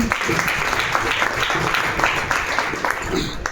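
Seminar crowd in Varanasi clapping for a guest of honour, dense, loud applause with lively overlapping claps filling the room, brief voices mixing in underneath.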